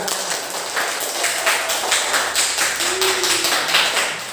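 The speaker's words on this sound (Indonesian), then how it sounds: "kita tepuk tangan dulu ya" Schoolchildren clap their hands together in a classroom, a steady run of fairly loud, rhythmic claps that goes on throughout without speech.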